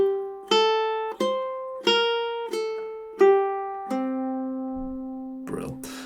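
A ukulele plays measures 3 and 4 of Fernando Sor's Opus 60 no. 1, a slow classical line of six plucked single notes ringing out and decaying, ending on a held final note, followed by faint rustling.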